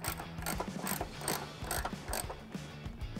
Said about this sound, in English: I'm gonna take my 16 millimeter socket with my 3/8 ratchet and tighten them up